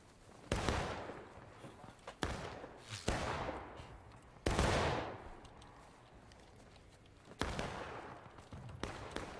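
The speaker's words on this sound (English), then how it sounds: "We're still shooting at them rocks up there, boys." Gunfire from Civil War-style reenactors at a Hagerstown night event, several sharp shots at irregular intervals aimed toward rocks, moderately distant, with faint voices in the background.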